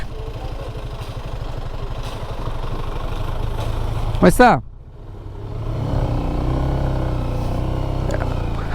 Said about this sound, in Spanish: vamos que pase el Jeep